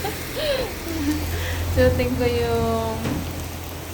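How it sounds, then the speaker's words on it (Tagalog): Heavy rain falling steadily in Taiwan, a continuous wash of noise under a voice talking close by. "Lakas ng ulan."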